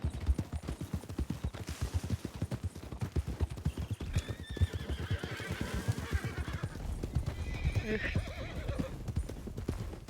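Steady rhythmic hoofbeats of a horse in a video game clip-clop throughout, with the horse whinnying briefly midway and again near the end, loud and close.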